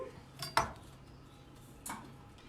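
A knife works around a whole washed pear with its skin on, giving a couple of faint, quiet clicks and taps against a cutting surface over near-silence.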